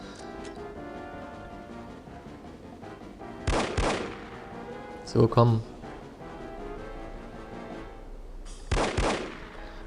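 Bursts of gunfire from the video game No One Lives Forever, three loud volleys spaced a few seconds apart over a steady background hum, with brief speech.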